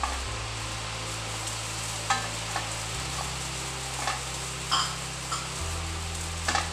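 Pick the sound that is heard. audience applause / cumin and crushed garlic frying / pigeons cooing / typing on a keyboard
cumin and crushed garlic frying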